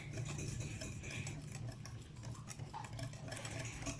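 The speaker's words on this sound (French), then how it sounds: "Oui, il faut beaucoup mélanger." Crêpe batter is whisked in a bowl, a faint, continuous scraping and swishing with light ticks from the utensil, quiet and without talk.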